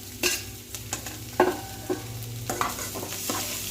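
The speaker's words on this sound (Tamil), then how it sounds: "சேர்த்து நல்லா வதங்கணும், நல்லா கிண்டி விடணும்." Chopped tomatoes sizzle in a hot pan for a lentil-and-greens dish, stirred repeatedly so that spatula scrapes and clacks break through a steady frying hiss.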